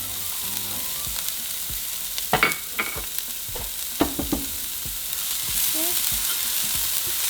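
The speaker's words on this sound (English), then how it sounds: "in the same pan, I'm going to fry the quarter of the onion that we have left." Diced onion fries in a pan with a soft sizzle under the clatter of a utensil, which gives a few sharp scrapes and taps as it is stirred. A single short word is spoken.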